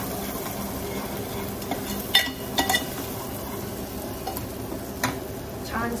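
Ginger, garlic and tomato tempering for dal sizzles steadily in a hot pan, with a few sharp clinks and scrapes as a utensil stirs it up close.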